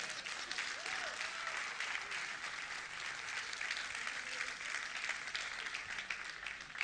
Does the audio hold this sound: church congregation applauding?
yes